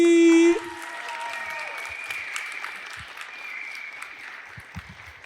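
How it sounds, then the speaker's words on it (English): Sustained applause from a studio audience at a Welsh televised talent show greets a contestant, steady and full after a brief musical sting at the start, with faint cheering mixed in. "can we please have the best of all and a massive round of applause up to the front for"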